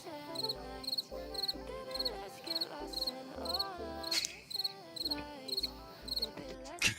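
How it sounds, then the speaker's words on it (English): Cricket chirping in quick, evenly spaced bursts of high pulses that repeat steadily over a bed of background music with a thumping beat. "That's the longest cricket sound ever."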